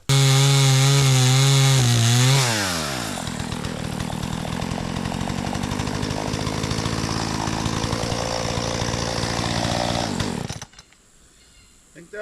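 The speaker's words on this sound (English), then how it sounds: "Man, this chainsaw is dull." A dull chainsaw revs high, then bites into wood beside a pond, its loud rough cutting drone holding steady for several seconds before the engine suddenly cuts out to near quiet.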